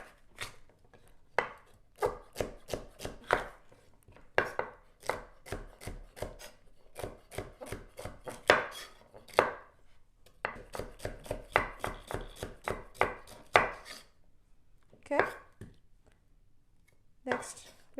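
Celery chopped with a knife on a cutting board, fast rhythmic knocking strokes in quick bursts with short pauses, close and crisp.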